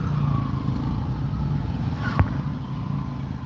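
A BMW car driving with a steady low engine hum and road rumble, moderately loud and continuous, with a brief thump partway through and no talking.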